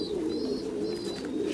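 Pigeons kept on a breeding farm coo steadily nearby, a soft, low, continuous burbling with a few faint higher chirps drifting in behind.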